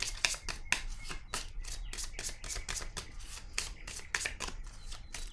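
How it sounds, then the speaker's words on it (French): Cards being laid down and handled during a tarot-style card reading, giving a quick series of soft crisp slaps and shuffling flicks at a steady close-up level, with no talk. "Je vais maintenant déposer une carte sur la transformation."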